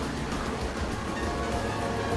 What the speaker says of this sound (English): Trains that use the power of Dell AI.